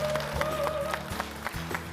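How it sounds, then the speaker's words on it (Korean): A church congregation applauds as a testimony speaker comes forward, clapping mixed with sustained musical tones and occasional rhythmic beats, all at a moderate, even level. "박수 부탁드리겠습니다"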